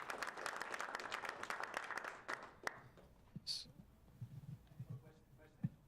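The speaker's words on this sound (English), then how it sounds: "everyone, please give a round of applause" Meetup audience claps for a speaker at a deep learning event, a brief round of applause that fades after about two seconds, followed by quiet room noise and faint movement.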